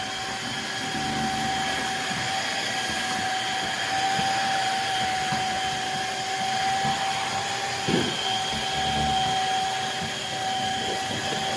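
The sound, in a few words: Shark HydroVac MessMaster cordless wet dry vacuum cleaner running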